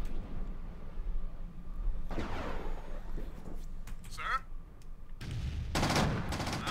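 Gunfire in Command and Conquer: Tiberian Sun, with a few sharp bursts of shots breaking through a quieter stretch, some close and loud near the end.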